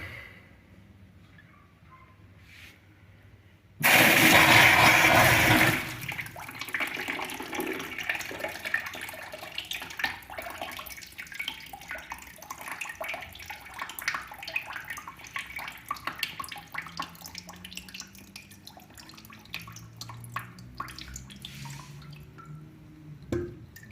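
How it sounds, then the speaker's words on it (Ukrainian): Water rushes into the heating circuit of a newly installed apartment boiler: a loud hissing gush that lasts a couple of seconds, then a long stretch of quieter trickling, dripping and gurgling in the pipes. "Іде заповнення контуру"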